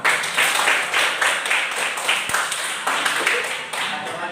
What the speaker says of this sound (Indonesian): mari kita berikan aplaus untuk kita semua